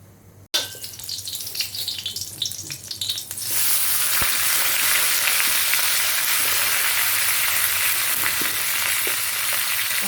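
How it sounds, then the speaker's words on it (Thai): Oil is poured into a hot pan to stir-fry vegetables, then a steady, loud sizzle and crackle of frying continues close by without pause. "เราตั้งกระทะให้ร้อนแล้วก็เทน้ำมันใส่ลงไปนะคะ"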